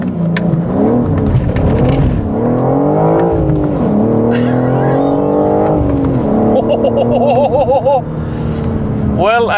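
A BMW M4 G82 with manual gearbox accelerating hard from standstill to 100, loud close engine rising in pitch through several gear changes with brief dips, speech faintly present.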